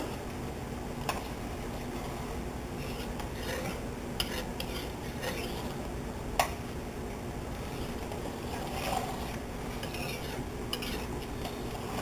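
Parsley flakes get stirred into a pot with a metal utensil: soft, continuous scraping and swirling with occasional sharp clinks against the pot's side, close and fairly quiet over a low background hiss.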